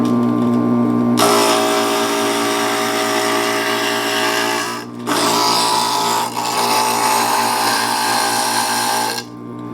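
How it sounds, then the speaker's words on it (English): An electric glass grinder smoothing the edges of stained glass pieces, a loud continuous grinding whine running steadily with a brief dip midway, close up and without speech. "When your pieces aren't exactly right to your pattern, you can use this grinder"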